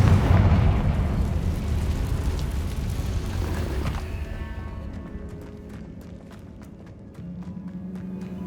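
In Hogwarts Legacy, a Confringo fire spell bursts with a heavy, roaring blast that rumbles on for several seconds before fading into a lingering crackle and faint debris ticks.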